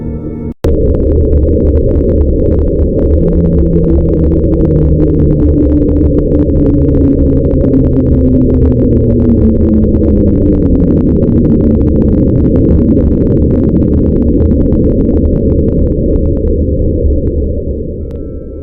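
Slowdown, a mysterious underwater sound recorded in 1997 and sometimes blamed on ice, plays as a loud, continuous low rumble with slowly falling tonal sweeps. It carries on unbroken with no voices, then fades slightly at the end.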